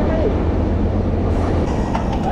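A train standing on the tracks while a bike rider waits in the street, heard as a loud, steady low rumble and hum with faint clatter toward the end, no clear talk over it.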